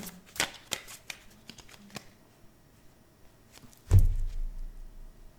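Tarot cards are shuffled and drawn, giving a quick run of crisp riffling flicks and snaps, then a louder soft thump as the cards are set down near the end, close and fairly quiet.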